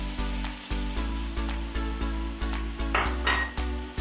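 A spoonful of garlic-ginger paste hits boneless chicken cubes frying in hot oil in a karahi pan, bringing a continuous close sizzle. Rhythmic stirring pulses and a brief brighter burst of spatter sound near the end.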